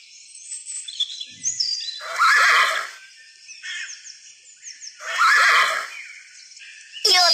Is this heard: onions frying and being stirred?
no